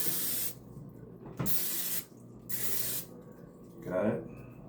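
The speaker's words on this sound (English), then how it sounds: "butter spray" Butter cooking spray hisses from a can in several close, loud bursts of about half a second to a second each, separated by short pauses, with a soft clatter near the end.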